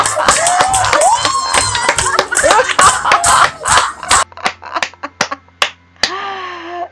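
A group laughs heartily while clapping along in an outdoor hillside exercise area: bursts of claps and rising laughter run for about four seconds, then scattered claps trail off before one voice laughs alone.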